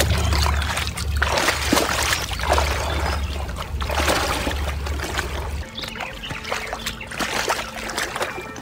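A person wades into a stream, water splashing and swishing around the legs in irregular surges, close and fairly loud over the steady rush of flowing water.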